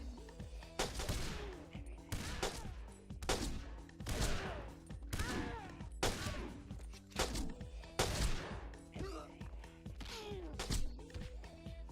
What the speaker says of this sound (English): There's a guy behind me with a shotgun.